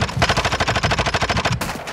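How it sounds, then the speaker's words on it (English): Rapid automatic gunfire rattles in a fast, evenly spaced burst lasting under two seconds in a video game firefight, loud and close, ending with one sharper blast. "Is that a shotgun? Oh shit, we are getting shot from behind."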